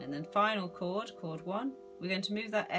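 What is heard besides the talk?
No distinct noise like a dog, phone or traffic.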